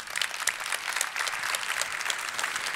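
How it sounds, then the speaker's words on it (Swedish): Steady applause from a conference audience at a Nordic eCommerce summit, dense and continuous clapping from a sizeable crowd welcoming a guest onto the stage, without talk. "En stor applåd."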